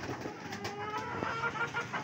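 Soft, low pigeon cooing murmurs under steady background noise, with a few faint clucks mixed in.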